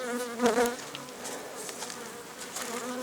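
Honey bees buzz steadily and fairly close, a dense droning hum with wavering pitch, swelling briefly near the start before settling into a continuous drone.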